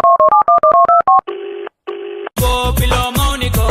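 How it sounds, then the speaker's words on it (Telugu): Telephone keypad dialing tones: a quick run of about eight short paired beeps, then two longer steady ringback tones with a gap between them, followed by a loud, dense burst of other sound at the end. "ఒకసారి ఫోన్ చేద్దాం"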